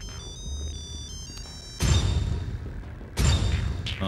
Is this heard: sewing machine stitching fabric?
no